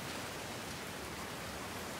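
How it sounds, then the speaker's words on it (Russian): Steady rain pouring down in the video game Pathologic (Mor Utopia), a dense, even wash of hiss that holds constant throughout with no breaks and no voices. "не могу я под этим дождем дурным"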